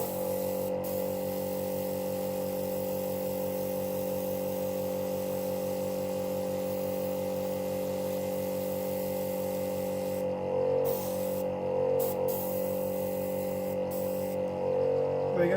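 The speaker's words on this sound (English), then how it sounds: "I'm using quite a high pressure and quite a thin paint on this so that I can spray from quite far away and get good coverage." An airbrush spraying thin paint at high pressure onto a model display base gives a continuous, steady hiss with a low hum beneath it, close and unbroken, with brief interruptions near the end.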